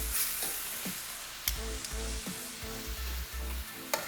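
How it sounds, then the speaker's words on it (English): Wet chicken livers fry in a hot pan with a steady, close crackling sizzle and occasional louder pops and stirring clatters, with no voices. "Since they were wet, it's a little trickier to brown them."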